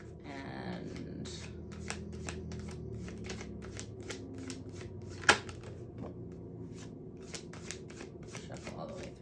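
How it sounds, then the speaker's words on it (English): Tarot cards are shuffled by hand in a rapid series of crisp riffling flicks and soft taps, close and quiet, with one sharper snap partway through. "I'm going to shuffle one more time"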